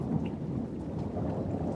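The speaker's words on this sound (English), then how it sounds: "The thunder shakes your boots." Rolling thunder sound effect with deep, sustained rumbling and steady rain noise, used to set a storm scene in a tabletop role-playing game. It plays loud and continuous with no voices over it.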